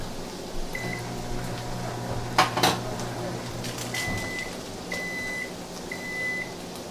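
A microwave heating butter hums steadily with a few clinks of dishes, then a series of short, evenly spaced beeps.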